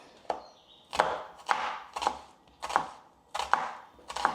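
Onions being chopped finely with a knife on a cutting board, sharp close chops falling at a steady pace of about two per second, with no talk over them.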